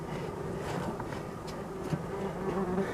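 A steady, dense drone of a honey bee colony buzzing continuously at moderate loudness, with no voices.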